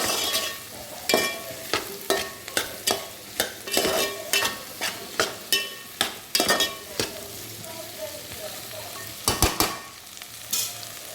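Fried soybean chunks sautéed in a pan for veg pulao, a low sizzle under a steady run of rhythmic spatula strokes and scrapes, close and clear.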